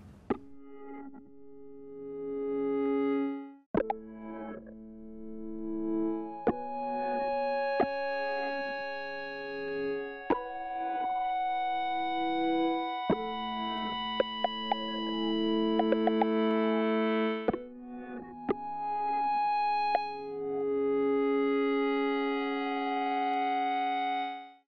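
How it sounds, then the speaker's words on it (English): A West Coast style synthesizer preset in GAZE, with an envelope follower driving the filter, plays plucky, bubbling tones in an irregular melodic sequence, some notes sharp and brief and others held, moderately loud throughout with no voices. "using some of these sounds with the envelope follower on the filter, you can create something that sounds kind of like West Coast synthy"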